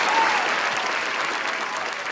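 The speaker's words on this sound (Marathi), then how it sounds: "एकदा जोरदार टाळ्या झाल्या पाहिजे मॅडमसाठी" An audience at a Marathi comedy stage show claps loudly and continuously, a dense burst of applause that eases slightly toward the end.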